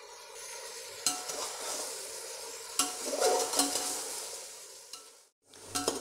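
Chicken biryani masala sizzles in oil in a pot while being stirred on medium flame, a steady close frying hiss broken by sharp scraping strokes of the spoon, with a brief pause near the end.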